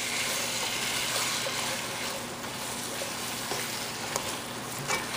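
Tomatoes, onions and potatoes are stirred in a soup pot, producing a continuous close sizzle and bubbling hiss with faint spoon scrapes and a couple of small knocks near the end, without talking.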